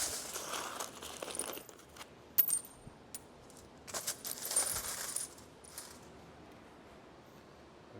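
Metal bolts from skid steer hardware clink and rattle as they are dropped into a bin, coming in several scattered bursts of bright jangling, close and fairly quiet, with pauses between.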